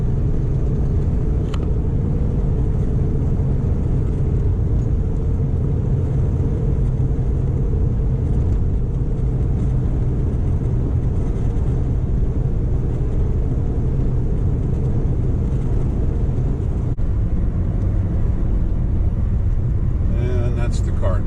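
General Grabber ATX 215/65 R16 tires on a 2006 Subaru Forester give off a steady low road roar and rumble from inside the cabin while driving, unbroken throughout.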